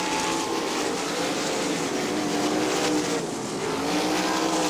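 Sprint cars racing on the dirt oval at Crystal Motor Speedway, a continuous loud roar of high-revving engines with overlapping pitches as cars pass and chase, with no talk.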